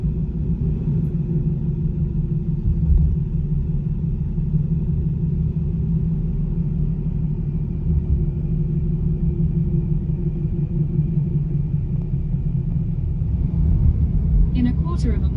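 Steady low tyre and engine rumble from inside a car driving along a leafy residential road into Staunton, constant and fairly loud, with a brief rattle near the end.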